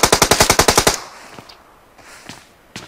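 Rapid burst of about nine loud automatic gunshots from PUBG Mobile, close and evenly spaced over the first second, followed by fainter scattered shots and game noise with no talk.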